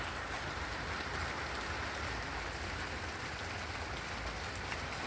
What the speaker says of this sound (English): The only rain in Arizona is by us.